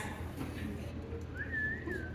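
A performer on a theatre stage in a children's musical whistles a rising-and-falling imitation of a bird call, one clear gliding note in the second half over a hum of room noise.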